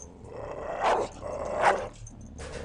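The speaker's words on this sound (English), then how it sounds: "Will you please stop barking?" A dog barks and growls in two drawn-out, rising bursts over a steady background hum, close and moderately loud, with quieter rumbling between them.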